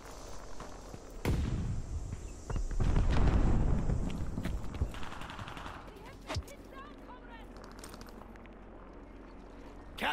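Grenade blast in the online shooter Call of Duty Vanguard multiplayer, a loud booming explosion amid sharp bursts of gunfire, followed by quieter scattered shots and game noise.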